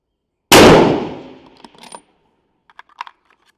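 A single loud rifle shot from load development testing at long range cracks sharply and decays over about a second, followed by faint clicks and small handling noises.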